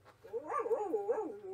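A toy dog's electronic bark: a short run of tonal, warbling yaps, two main bursts in quick succession, near and clear with no voices.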